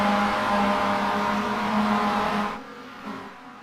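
Roadster race cars battling side by side for the lead, engines roaring loud and continuous before cutting off sharply near the end, leaving a quieter fading tail.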